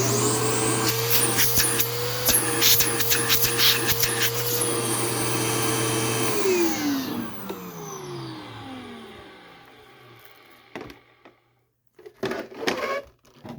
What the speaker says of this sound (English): Motor could probably use some replacement bearings